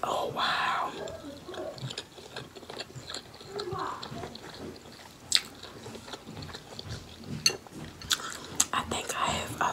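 A shrimp sushi roll is chewed up close in a quiet room, with soft, moist, steady mastication and small squishy bites throughout.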